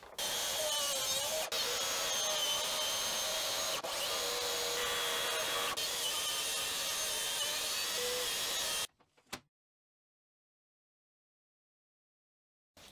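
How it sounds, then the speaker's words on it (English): A power tool cutting a hole in wood around a plate during a CNC machine upgrade, with steady loud whining and grinding that runs continuously for about nine seconds, then stops abruptly before a short clunk and silence. "I'll be cutting a hole around that plate to fit new Y-axis modules"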